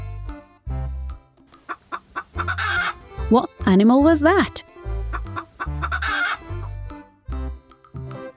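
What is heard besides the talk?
chick chirping, farm animal toy sound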